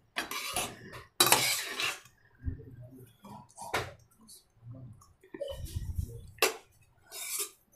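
Amla pulihora rice is mixed in a pan with a spoon, heard as intermittent close scraping and clinking strokes with wet squishy stirring and short pauses between.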